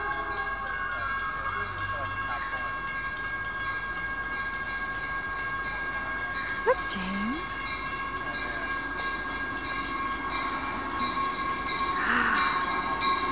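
A train draws into a station, its low steady rumble and faint metallic squeal building gradually over the clip, with a person speaking to a child near the platform.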